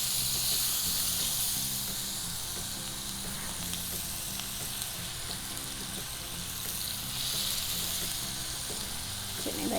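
Chicken pieces frying in hot oil for pizza pakoray make a continuous close crackling sizzle with steady hiss, holding at an even level throughout, and a faint background murmur underneath.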